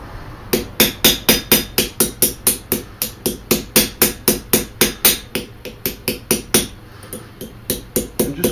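Steady metal hammer blows closing the edges of a forged arrow point for a traditional longbow arrow, about three strikes per second, sharp and close, continuing without pause.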